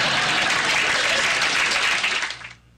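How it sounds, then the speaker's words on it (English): Dense audience clapping, a loud sustained wash of many hands that fades out quickly at the end. "People were clapping."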